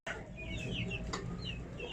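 A chick being treated for spraddle legs gives high, repeated peeps close by over a low background rumble.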